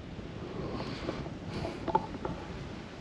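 A good south wind blows through a shaded campsite at Bear Creek Campground on Benbrook Lake, a steady breathy rush with soft gusts buffeting the microphone throughout.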